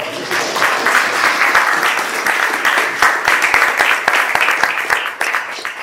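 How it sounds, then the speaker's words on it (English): Workshop audience applauding, a loud, continuous crowd of clapping hands with distinct sharp claps standing out near the front, fading slightly at the end. "if you wanted to applaud, yes, that's okay"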